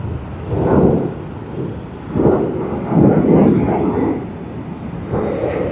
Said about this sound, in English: we see a takeoff also from runway 34R, presumably a domestic one of Virgin Australia